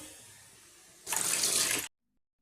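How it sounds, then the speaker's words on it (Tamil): Water runs from a tap for under a second, loud and broadband, while millet rice is rinsed, then cuts off to silence; a quieter wash sound precedes it. "வடிகட்டிட்டு ஒரு நாலஞ்சு டைம் இந்த மாதிரி நல்லா வாஷ் பண்ணிவிட்டு அப்புறம் ஊற வச்சுக்கலாம்"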